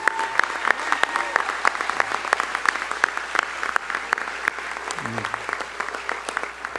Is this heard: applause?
yes